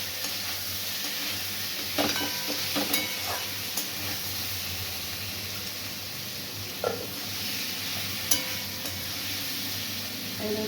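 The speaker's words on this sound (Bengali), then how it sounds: "ফুলকপিটা দিয়ে মশলাটা কষবো।" Spices fry with cauliflower in a pan for a fish, potato and cauliflower curry, giving a steady soft sizzle with occasional light clinks and scrapes from stirring.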